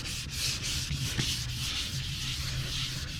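Wet/dry sandpaper, used wet, rubs back and forth in a repair on an RV. The gritty, continuous scrubbing is close and steady, with a soft rhythmic swell from each stroke and no voices.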